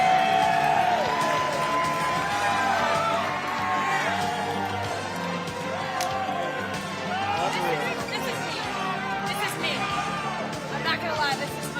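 A live audience at a Boston taping of The Dozen cheers and applauds in a dense, sustained roar of claps and shouts. The crowd stays loud throughout, with voices mixed into the din.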